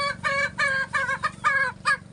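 Chicken clucking in a run of short, bright bursts, several quick calls following one another close to the microphone with a low steady hum underneath.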